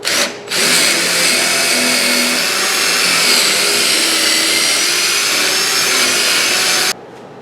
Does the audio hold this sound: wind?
no